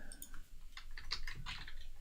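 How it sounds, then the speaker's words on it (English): A computer keyboard is typed on in quick, uneven bursts of light key clicks, quiet and fairly close, with no speech over it. "I can't type today, Ben."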